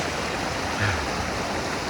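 A mountain river near Hoverla rushes steadily, a constant close hiss of flowing water with no pauses and no voices.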